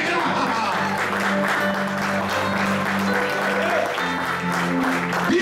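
Congregation clapping along during a Spanish-language church service, a steady dense patter of palms running the whole time under sustained musical tones and voices.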